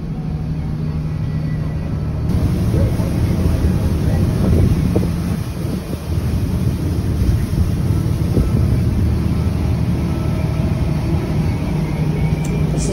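A cruise boat underway on open water, with a steady low engine rumble and broadband wind and water noise that stays loud and constant throughout, with no talk.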